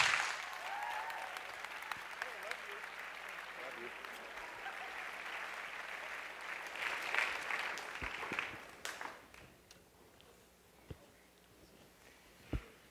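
A chapel audience applauding to welcome speaker Pam Beebe, steady clapping from many hands that swells and then fades away, leaving scattered faint claps and quiet room sounds.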